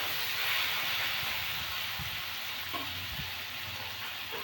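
Onions frying in a little oil with salt, a steady close hissing sizzle with a few soft knocks of stirring, and no talk.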